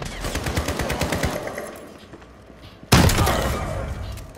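Gunfire from the Brushstroke marksman rifle in Modern Warfare, a rapid run of close shots early that fades, then a sudden loud burst near the end.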